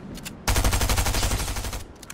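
Rapid automatic gunfire from the video game Fortnite rattles out in one loud, sustained burst of about a dozen close shots, framed by a few fainter shots before and after.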